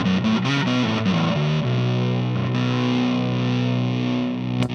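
Heavy-gain distorted electric guitar through a Fulltone Supa-Trem2 tremolo pedal, played as a short riff of sustained notes and chords, loud and close with no talking.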